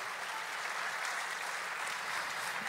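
Steady, dense applause from a live theater audience at a podcast show in Madison, Wisconsin's Barrymore Theater, filling the room evenly without talk.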